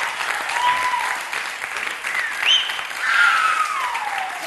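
Enthusiastic studio audience applause on the Turkish TV music show Ezgiler Sezgiler, loud and sustained, with a few shrill cries and whistles rising above the clapping.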